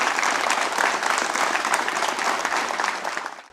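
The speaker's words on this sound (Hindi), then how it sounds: "तो एक बार जोरदार तालियों से इनका स्वागत कीजिए।" Audience applause welcoming a chemistry-expert panelist at a higher-education panel discussion, a steady, dense burst of clapping from a sizable crowd that carries on evenly and fades out at the end.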